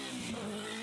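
Honda Prelude third generation engine revving hard toward VTEC, a steady, loud buzzing drone with a rising tone held through the whole short burst, no voices.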